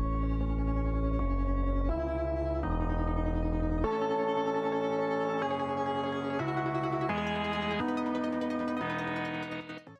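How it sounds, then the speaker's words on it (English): A synth arpeggio layered with chords in melodic drum and bass, a filter cutoff sweeping open so the tone grows brighter over several chord changes, loud and alone before trailing off. "And I'm also automating the cutoff of the ARP and the chord"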